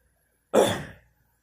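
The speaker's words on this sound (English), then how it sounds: "sorry that I coughed a while ago" One sharp human cough bursts out close and clear in otherwise near silence, trailing off quickly.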